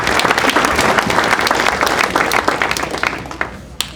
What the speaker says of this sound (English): give them a round of applause first